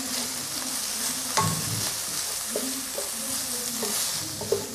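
Turmeric and cumin powder frying in a pan for a mung bean curry with coconut milk, a close steady sizzle broken by several sharp spoon scrapes and knocks as the spices are stirred, with no speech.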